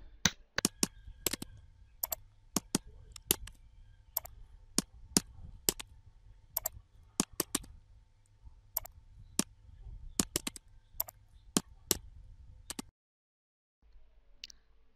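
Rapid clatter of computer keyboard typing mixed with sharp mouse clicks, close and fairly loud in irregular bursts over a low hum, stopping abruptly near the end into silence.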